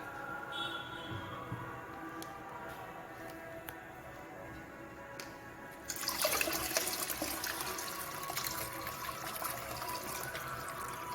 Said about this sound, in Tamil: இதையும் இப்போ நான் வடித்து எடுத்துக்கிறேன்.